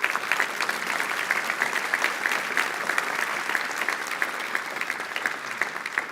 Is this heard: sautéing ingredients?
no